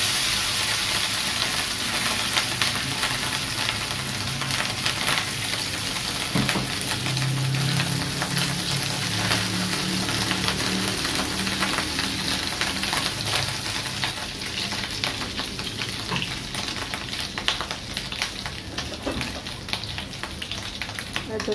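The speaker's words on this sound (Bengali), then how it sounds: "ডিমটা ভেজে নেই, তেলটা মনে বেশি গরম হয়ে গেছে।" An egg fries in very hot oil in a home kitchen, a steady loud crackle and sizzle that runs without a break, heard up close while someone talks over it.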